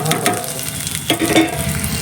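Tomato frying with onion, cumin and ginger paste in a hot pan, a close steady sizzle with brief stirring scrapes.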